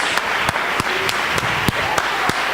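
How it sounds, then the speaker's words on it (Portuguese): A church congregation applauds during a worship service, a steady wash of clapping with sharper individual claps standing out at regular intervals, sustained throughout. "Uma salva de palmas para Jesus."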